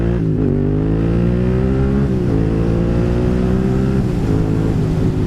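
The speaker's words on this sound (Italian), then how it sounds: "scarico Arrow che tira delle botte assurde, veramente bello." A restricted Yamaha MT-07 motorcycle fitted with an Arrow exhaust revs loudly and close by, its engine note climbing and dropping through several steady pulls with no talk over it.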